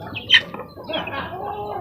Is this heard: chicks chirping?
yes